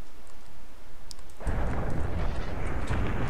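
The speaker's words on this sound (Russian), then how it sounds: "может быть мне как-то выстрелить из вот этого вот огромного гранатомета?" Large grenade launcher fires in the video game Ravenfield, setting off a sudden loud, deep explosion that leaves a heavy rumbling roar through the rest of the moment.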